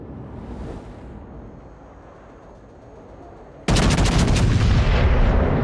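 Video game gunfire erupts suddenly after a quiet stretch of faint background noise, a loud, dense burst of rapid shots that continues without a break to the end.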